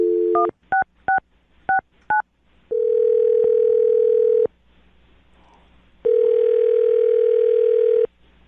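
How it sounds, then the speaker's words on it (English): A telephone being dialed: a quick series of DTMF keypad tones in uneven bursts, followed by two long, steady dial-tone stretches separated by a quiet gap, heard clearly with no talking. "I'm going to dial the phone number right now and see if we can get him on the phone."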